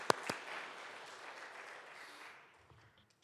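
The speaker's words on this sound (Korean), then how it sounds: "귀한 찬양으로 영광 받으신 우리 주님께 감사와 영광의 박수 올려드리겠습니다." A church congregation claps after a worship song at an Easter Sunday service, a couple of sharp nearby claps opening a soft, fairly distant round of applause that fades out.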